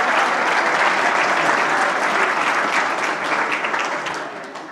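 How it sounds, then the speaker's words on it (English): Sustained, loud applause from a conference dinner audience fills the room throughout, dense clapping from many hands at close range that eases slightly toward the end. "Give them a round of applause."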